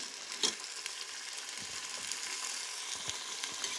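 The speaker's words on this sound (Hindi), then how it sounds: "इसको थोड़ा सा फ्राई करेंगे।" Egg and potato curry ingredients fry over a stove fire, with a soft steady sizzle and occasional scraping, stirring clicks close by.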